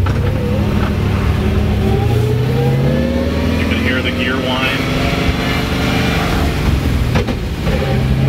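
A car with a dog-ring T56 manual gearbox accelerates through the gears, its loud engine note climbing and dropping between shifts while someone talks over it.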